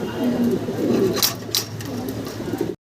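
Fancy pigeons coo softly in low, rolling murmurs close by, with a few brief sharp sounds cutting in before the sound ends abruptly.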